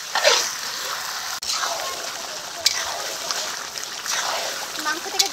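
Chicken curry meat sautéing in a pan with Kashmiri chili powder and chopped tomato gives a steady, close sizzling hiss with a few stirring splashes, while a voice talks faintly over it.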